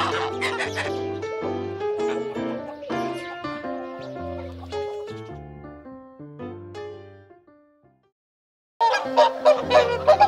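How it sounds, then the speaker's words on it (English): Geese honk in a busy, overlapping chorus of nasal calls that fades out into silence, then a fresh loud burst of honking starts up near the end. "great geese laying eggs all over the doorstep"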